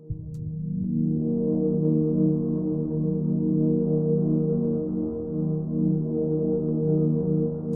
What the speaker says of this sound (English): then after that we have this first pad,